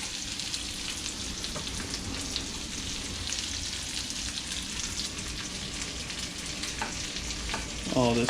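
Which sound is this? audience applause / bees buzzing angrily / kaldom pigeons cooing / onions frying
onions frying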